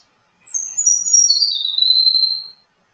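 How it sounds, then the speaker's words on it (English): A single high, thin Baird's sparrow call slides downward into a sustained buzzy trill, clear and close, with silence before and after. "I'm going to see if I can give you the sound on Baird sparrow."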